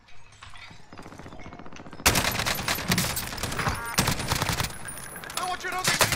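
Rapid bursts of gunfire in a Portuguese-language shooter video game, dense and loud after a quieter opening, with a player's voice talking over the shots.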